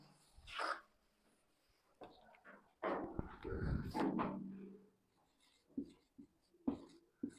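Pen writing by hand on paper, short scratchy strokes in quiet bursts, near and faint, with a few brief pauses between lines.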